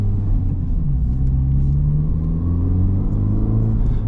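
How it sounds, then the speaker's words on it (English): A steady, deep exhaust rumble from an idling Honda Civic Type R FL5 with a resonator delete, low and throaty with a slight rise in revs, continuous and close. "I think my favorite thing about the resonator delete is I didn't have to spend a lot of money on the exhaust"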